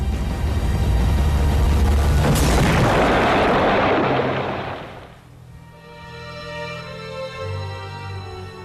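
Bombs dropped from German Zeppelin airships explode in a loud, sustained roar that swells, peaks for a few seconds and then rumbles away into a lower, fading tail, with no voices present.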